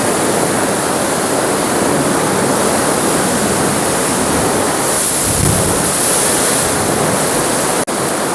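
Sea waves surging into a coastal cave, a loud, steady roaring wash of water with a deeper swell rising midway and a sharp thud near the end.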